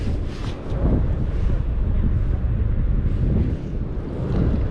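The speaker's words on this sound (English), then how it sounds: "So windy." Strong, steady wind roars and buffets across the microphone, a constant rumbling blast outdoors while fishing at Bonneville Dam, Washington, with faint water sounds beneath.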